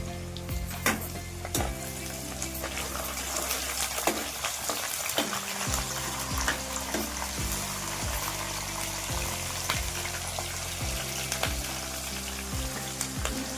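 Green chillies fry in hot oil for gongura pulihora, giving a loud, steady sizzle with bursts of crackle and spatter, plus occasional stirring scrapes in the pan.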